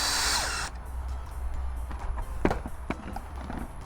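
A power drill drives screws into a bracket while mounting a Sansi LED motion security light. It gives a short, loud whir, then stops, followed by scattered clicks and handling taps of the fixture.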